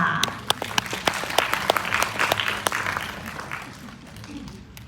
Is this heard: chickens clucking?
no